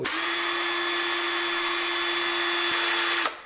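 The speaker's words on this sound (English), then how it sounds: "So we're going to start off at the smallest drill bit" A power drill whines steadily at high speed for about three seconds, grinding through hard metal of a Toyota Century pitman arm, then spins down and stops abruptly.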